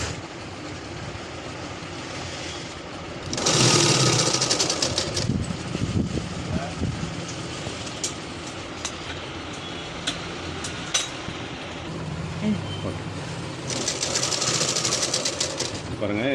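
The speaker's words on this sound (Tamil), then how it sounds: "இப்போ மற்ற பகுதியெல்லாம் தையல் போடுறோம்" A sewing machine stitches the edges of a lining jacket. A steady, close mechanical whir runs nonstop, growing louder in two stretches, while a person talks over it at times.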